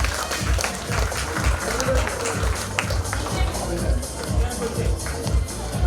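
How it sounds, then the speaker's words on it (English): An audience claps for a children's performance at a school event, a dense, steady patter of applause under a voice talking and a rhythmic low thumping. "One more round of applause for such a agility by our kids."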